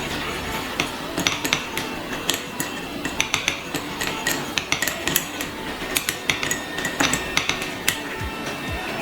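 Reed diffuser aromatherapy mixture being stirred in a container, making rapid, irregular clinks and taps of a utensil against the vessel, fairly close and distinct, with no talking over it.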